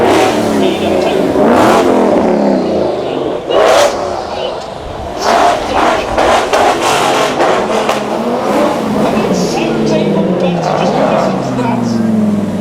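TVR sports car engines rev and roar at a supercar weekend at Beaulieu, loud fluctuating bursts of acceleration close by, with someone talking over them.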